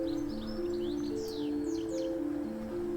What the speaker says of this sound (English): House martins are very fast moving birds and very jerky